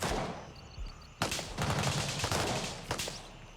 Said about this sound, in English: listen to the gunfire over here